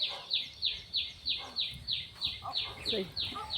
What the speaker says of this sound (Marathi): सकाळी सकाळी आमच्या अंगणामध्ये खूप चिमण्या आणि कबूतर